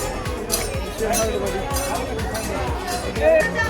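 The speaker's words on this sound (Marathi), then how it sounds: "खूपच गर्दी आहे" A dense crowd at Tuljapur temple fills the space with overlapping chatter and footsteps, a continuous close babble with scattered sharper knocks.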